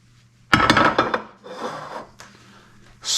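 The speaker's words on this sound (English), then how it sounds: "Stir it up." Flour and finely ground bread stirred in a dish: a close, loud burst of rough scraping and rubbing, then softer intermittent scrapes and a final rasping stroke.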